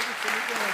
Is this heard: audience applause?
yes